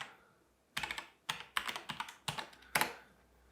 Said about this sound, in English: Make sure I type it in correctly.